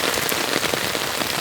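Heavy rain pouring onto surfaces, a dense continuous patter of drops close by, steady and loud with no voices.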